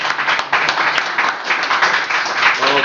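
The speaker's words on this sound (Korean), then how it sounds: "우리 최 박사님께 박수 부탁합니다" An audience claps for a speaker at a Korean marketing talk, dense and steady applause from many hands, loud and close, lasting the whole stretch with no talking.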